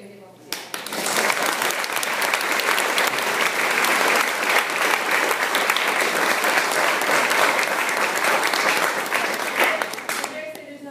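Sustained audience applause after a talk on Moroccan culture, loud and dense clapping that holds steady for about ten seconds before tapering off at the end.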